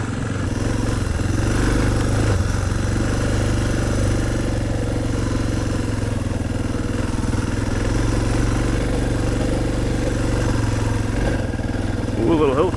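Suzuki DR650 dual-sport motorcycle engine revving steadily under load on a hill climb, a continuous loud close drone with wind rumble throughout.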